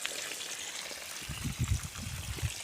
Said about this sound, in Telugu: ఈ మధ్యలో మల్చింగ్ పేపర్ మధ్యలో వాటర్ని అయితే వదులుతున్నాను